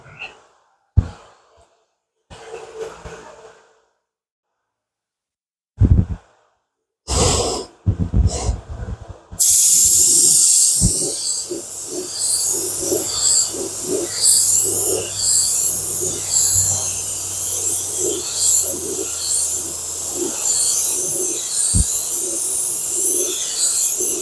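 Spray gun laying a heavier second coat of paint on a 1961 Chevy Biscayne in a body shop: short bursts of breathing and puffs give way to a loud, continuous close hiss of spraying from about ten seconds on.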